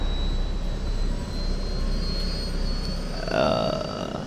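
An airplane engine in Just Cause 2 drones steadily in a loud, continuous roar with a whining high tone. Near the end a brief extra burst swells over it.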